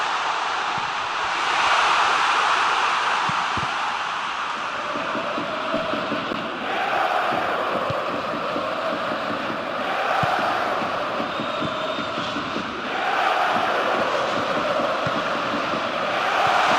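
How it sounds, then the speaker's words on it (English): A stadium crowd at a Japan vs Indonesia Asian Cup football match gives off a broad, continuous roar that swells and fades in waves, heard from a distance. "Crowd appreciates good football all round there."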